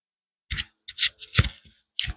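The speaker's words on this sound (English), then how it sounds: "And then I'm going to cut up some green onions for decorations." Green onions being cut for a garnish: about five crisp, separate snips spaced out in quiet, with no talking.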